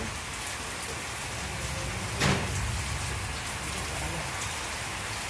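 Steady rain pours outdoors with gusting wind, a dense, even hiss of drops on surfaces throughout, swelling slightly midway.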